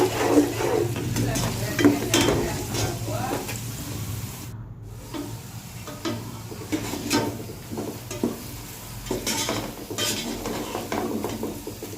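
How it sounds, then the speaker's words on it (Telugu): Fish curry masala stirred in a pan, steady sizzling with repeated scraping and clinking of a metal spoon against the cookware, close and moderately loud, the strokes coming in uneven bursts with a brief lull midway. "బాగా కలుపుకోవాలి"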